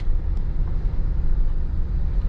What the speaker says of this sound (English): you can hear the car's fan blasting because it's so freaking hot